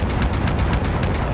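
Cannon on an armored vehicle in a homebrew video game firing a rapid series of sharp booming blasts, about seven evenly spaced shots in just over a second, loud and close.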